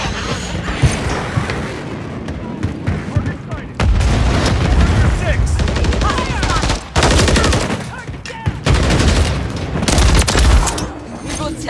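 Dense, continuous gunfire and booming blasts from a Call of Duty Modern Warfare battle rumble loudly throughout, with shouted voices mixed into the chaos.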